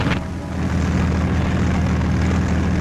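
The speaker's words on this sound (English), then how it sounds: "the sound of aeroplane engines filled the air" A low, droning hum of wartime aeroplane engines before D-Day fills the air, steady and sustained, with a faint rise at the start.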